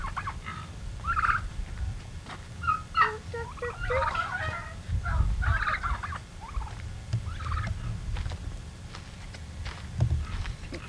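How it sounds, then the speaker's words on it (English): Turkeys gobble repeatedly at a farm, with bursts of gobbling rising and falling across the clip over a steady low rumble and some shuffling footsteps. "Where's the turkeys? Turkey, turkey, turkey."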